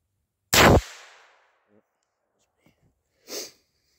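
A single sharp rifle shot from an AR-15 fitted with a CMMG .22LR conversion kit firing CCI Stinger ammunition, loud and close, followed by a faint distant report and a brief later sound in near-silence.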